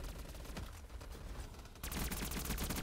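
Rapid automatic MAC-10 gunfire in Black Ops 3 custom zombies, a dense continuous burst that grows louder and heavier partway through, with no talk.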